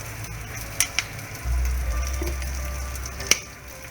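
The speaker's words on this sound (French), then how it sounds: "Là, mon oignon qui cuit." Onions frying in oil for a vegetarian biryani, a soft steady sizzle under a low hum, broken by a few sharp clicks of utensils on the pan, with no talking.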